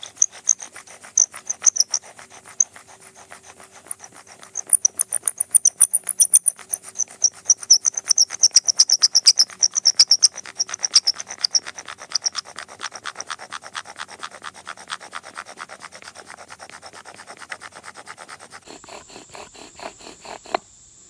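A privet spindle spins in a river birch fireboard during a bow drill fire attempt. It makes a steady rhythmic rasping and squeaking that keeps going for about twenty seconds, then stops, followed by a few scattered scrapes.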